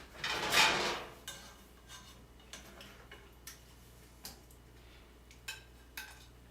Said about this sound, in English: let me take pot stickers out of the stove